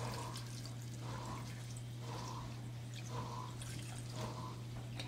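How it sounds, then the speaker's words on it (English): Water poured into a pot over cubed potatoes for stewing, a steady splashing stream with a regular pulsing rhythm over a constant low hum. "we are gonna put some water in here, and we're gonna put it 1 to 2 inches over the potatoes"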